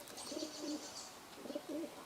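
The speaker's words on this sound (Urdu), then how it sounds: "ابا کبوتر ہے." A pigeon coos softly in a few low, rounded calls repeated twice, heard at a moderate distance over a faint background hiss, with no one talking.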